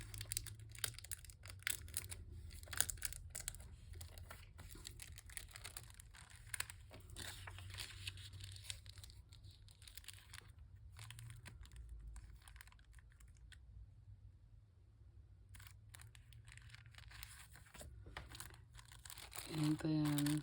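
Paper crinkles and crackles up close as the bottom of a sheet is folded upward, rustling in short bursts, with a voice talking now and then.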